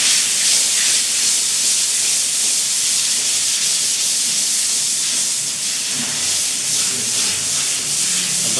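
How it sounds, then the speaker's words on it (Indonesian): Sandpaper of grit 240 rubbed in circles over a cement fresco-style unfinished wall, a steady close broadband scratching hiss that stays continuous and fairly loud with no talk. "Nah, kita coba amplas ya."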